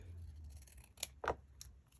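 Two or three crisp snips of black scissors trimming paper ephemera, close and fairly loud over a low steady hum, with a short pause between cuts.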